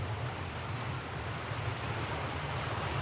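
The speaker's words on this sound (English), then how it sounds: "Like that stairway waterfall it's got here too." Water rushes steadily down a small man-made stepped waterfall at the end of a canal near a lake, a continuous broadband roar that stays constant and fairly close with no talk.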